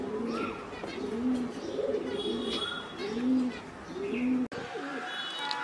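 Pet pigeon at home cooing near the listener, a run of about five low, rolling coos in a steady rhythm, with brief chirps and a sharp click near the end.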